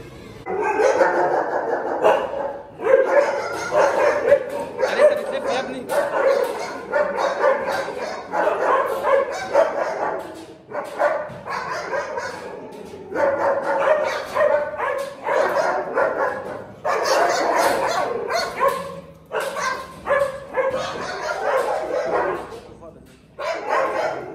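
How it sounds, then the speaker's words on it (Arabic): Dogs barking and yipping in an outdoor summer setting, with mixed barks and whimpers running throughout under steady talk and background noise. "زي ما انتوا شفتوا الكلاب عامله ازاي"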